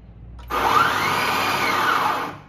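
An FGMK92 automatic grinder with 83mm titanium flat burrs starts abruptly and grinds coffee in a loud, steady whirring burst of about two seconds, then begins to wind down, with no voices.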